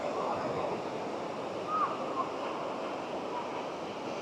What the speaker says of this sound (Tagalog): Ang laki kaagad ng alon.